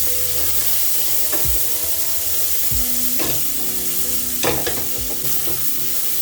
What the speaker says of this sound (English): Then I'll go in with my onions as well as my ginger. Then I'm going to saute this